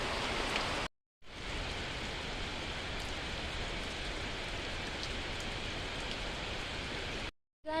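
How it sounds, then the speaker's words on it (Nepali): Heavy rain pours down as a dense, steady hiss, with a short gap near the start and another just before the end. "यत्रो ठुलो पानी पर्यो साथीहरू"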